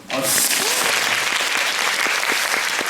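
Audience applause breaks out at a post-show talk for the musical Rachmaninoff, a dense, sustained round of clapping from a seated theatre crowd that starts abruptly and holds steady to the end, with a voice briefly heard under it.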